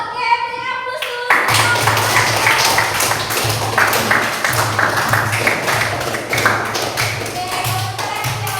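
Classroom audience applauding after a group's class presentation, a loud, steady wash of many hands clapping close by, beginning abruptly after a short voice and carrying on throughout.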